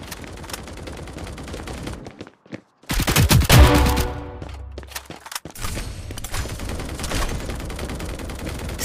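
Gunfire in the mobile shooter game Hyper Front: bursts of rapid automatic shots and a heavy volley with a booming impact midway, loud and close, with game effects throughout.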